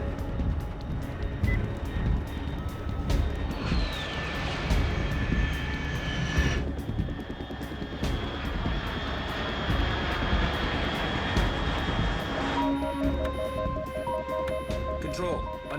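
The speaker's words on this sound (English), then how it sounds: "Unidentified aircraft detected." Aircraft drone from the video game Metal Gear Solid 3 runs as a steady roaring engine hum throughout, with tonal game effects and bleeps layered on top.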